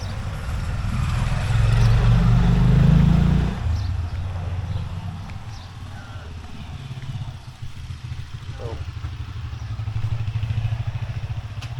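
An old Honda XR 200 motorcycle rides a narrow, twisty road, its engine putting out a loud, close, chugging note at first, then dropping back to a quieter, steady running sound.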